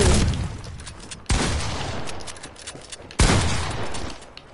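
Three loud, sharp gunshots in Fortnite Creative mode, spaced about one to two seconds apart, each a close, heavy crack that trails off in a fading rumble before the next.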